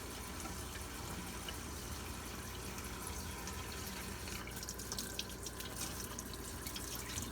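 Dandelion flowers rinse under a running kitchen tap, a steady close rush of water with splashing and dripping throughout and no voices.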